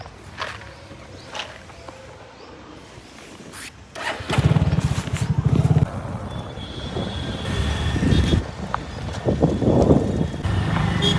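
Small Bajaj Platina motorcycle engine running and revving nearby while riding, rising in loudness midway with wind noise over the microphone.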